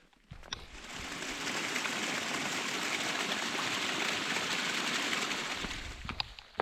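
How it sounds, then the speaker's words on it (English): Rain falling at Baker Lake during a hike, a dense, even hiss of drops that swells in and holds steady close by, with a few sharper taps at the start and end. "I said the rain would come, and here it is."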